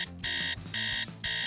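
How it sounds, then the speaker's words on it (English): A phone alarm rings in loud, steady electronic bursts, three long tones separated by short gaps, close and alone with no voices. "she didn't hear her alarm on her phone ringing"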